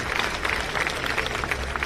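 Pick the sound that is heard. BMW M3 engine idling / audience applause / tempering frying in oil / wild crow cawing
audience applause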